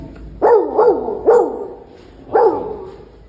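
A child mimics a dog with four sharp barks, three in quick succession, then a pause before the last one.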